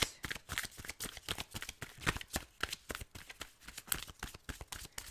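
Playing cards shuffled repeatedly by hand, a rapid, close riffling and snapping in irregular bursts with no talk over it.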